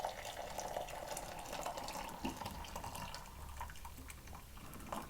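Water poured from a travel kettle into a glass, a continuous close splashing stream whose pitch shifts slightly as the glass fills, with faint background sounds and no talk.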